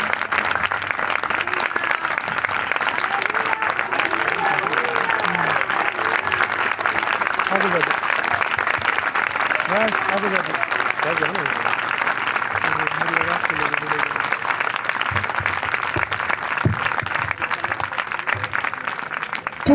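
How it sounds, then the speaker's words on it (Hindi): Loud, sustained applause from a church congregation fills the space steadily throughout, a dense continuous clatter of many hands, with faint voices underneath. "आपने जोरदार तालियां बजानी है।"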